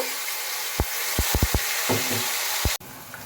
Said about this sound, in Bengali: এবার মিক্সিং জারে বেটে রাখা মশলাটা আমি গরম তেলে দিয়ে দেব